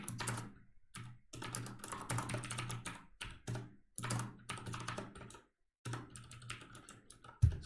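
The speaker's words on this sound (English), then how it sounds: "so let me type that and explain later" Fast, close typing on a computer keyboard while coding, in bursts of rapid clacking keystrokes separated by short pauses, with one louder key thunk at the end.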